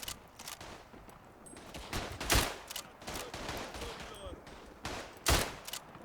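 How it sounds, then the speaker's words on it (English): Rifle shots in the WWI shooter Tannenberg, with a Winchester lever-action in play, crack out as a few sharp, separate reports, two of them louder and closer, over a low battlefield background. "He fired at me with 3 shots and he missed. I fired with 1 shot and missed."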